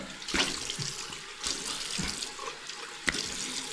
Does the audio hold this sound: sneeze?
no